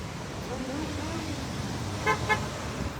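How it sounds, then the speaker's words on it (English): Two short car horn toots from passing traffic at a Milwaukee street protest, sounding close together over steady road noise and passing engines. "There's a honk of support."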